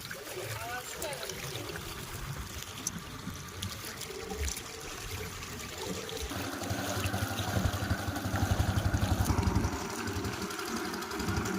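A small motor boat passes on a river during shrimp fishing, its low engine drone growing louder and steadier in the second half, with trickling water and people talking throughout.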